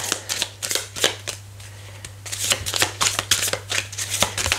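Tarot cards riffled and shuffled in quick bursts of crisp papery flicks, close and clear, with a brief pause midway before the shuffling resumes, against a steady low hum.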